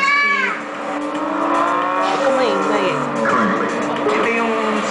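RC car running at speed on a track, a high whining motor that rises and falls in pitch with quick revving sweeps, steady and fairly close, with speech mixed in.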